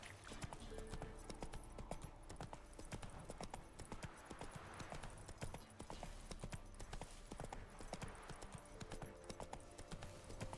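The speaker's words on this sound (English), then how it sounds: "Why can't Roach sprint?" The horse Roach trots in The Witcher 3 video game, a continuous rapid clip-clop of hooves at a steady gait, faint overall and heard alone.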